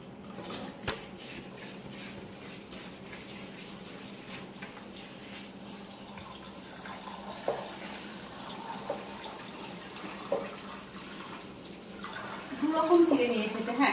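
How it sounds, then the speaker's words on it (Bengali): Running tap water splashes steadily while white flattened rice (poha) is washed in a pan, with occasional clinks and a burst of louder splashing near the end. "এই যে সাদা চিড়ে, এটা ধুয়ে দেবো।"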